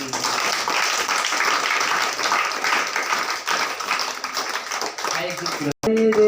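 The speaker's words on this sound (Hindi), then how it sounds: "जोरदार ताली से" Loud, dense applause from a church congregation at a Hindi prayer service, sustained for about six seconds with voices mixed in, cutting off abruptly near the end.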